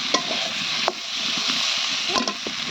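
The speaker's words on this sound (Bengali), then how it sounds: "এইভাবে ডিম ভুনা করবো তো আজকে অবশেষে করেই নিলাম" Eggs for egg bhuna stirred and fried in a pan, a steady close sizzle with a few sharp scrapes of the spoon against the pan.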